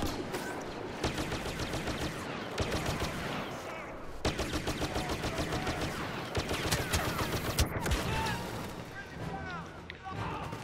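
Pistol and other gunfire in a Star Wars multiplayer video game, rapid bursts of shots crackling over a busy battle soundscape while a player talks throughout.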